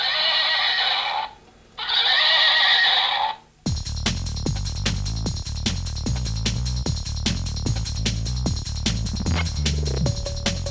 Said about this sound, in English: Its eyes light up and it makes a kind of horse sound, which is beautiful, I think.